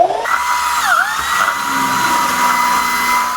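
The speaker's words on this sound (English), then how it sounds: "I'm going to start with a round of sanding just to smooth out these edges" A power sander runs continuously and loudly at close range, smoothing the edges of a faux wood beam, its motor whine dipping briefly before settling into a steady drone.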